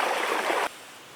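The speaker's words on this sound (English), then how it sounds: "This is the outflow from a natural spring at the base of the hill." Outflow from a natural spring at the base of a hill runs through a culvert under an old roadbed, making a steady, rushing trickle that is fairly close and cuts off abruptly after about half a second.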